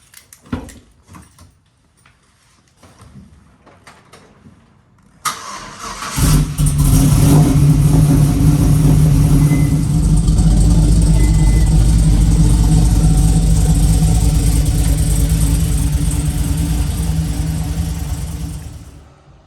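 A Chevy Colorado pickup truck starts up after a quiet stretch with faint knocks, then its engine settles into a loud, steady idle nearby that continues to the end, with no voices.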